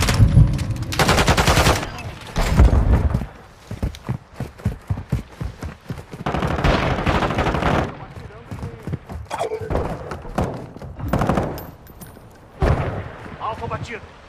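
Gunfire in a Modern Warfare 2 six-versus-six multiplayer match on the La Casa map, with loud bursts of automatic fire alternating with quieter stretches, under radio-style in-game voice callouts.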